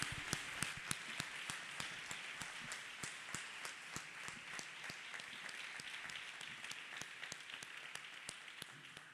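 A church congregation claps their hands together, a moderately faint, steady round of applause with some sharp individual claps standing out, sustained evenly throughout.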